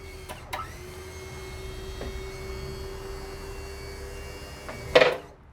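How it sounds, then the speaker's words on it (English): The wheelchair tail lift on a Vauxhall Movano folds into its stowed position with a steady electric motor hum. It is broken by a few clicks and ends in a sharp mechanical clunk as it locks. "and finally the stow."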